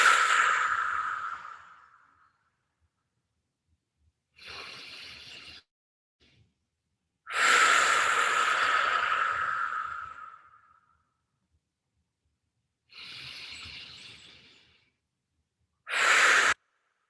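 Slow deep breaths during a vinyasa yoga session, long airy inhales through the nose and released exhales through the mouth, close and loud, separated by silent pauses.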